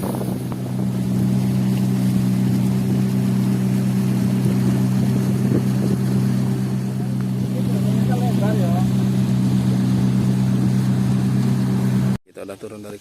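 A steady, loud motorboat engine drones on during a ride across Danau Asam lake in Suoh, with faint voices briefly audible over the hum before it cuts off abruptly at the end.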